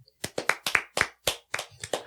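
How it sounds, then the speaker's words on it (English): Small-group clapping: about nine distinct, close handclaps in a quick, slightly uneven rhythm, spaced roughly a quarter second apart. "Clap for him."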